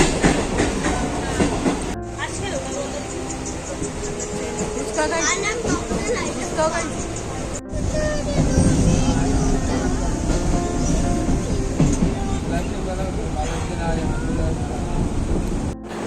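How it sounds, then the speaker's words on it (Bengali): Inside a moving local train, a steady rumbling rattle of the carriage runs throughout, with rhythmic clatter and people talking over it. "ট্রেনে উঠে গেছি আমরা।"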